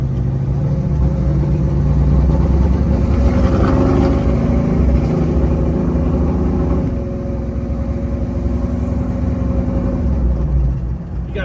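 A 1972 Chevrolet Nova muscle car engine rumbles steadily and loudly from inside the car on a test drive, a deep continuous drone that eases off slightly partway through.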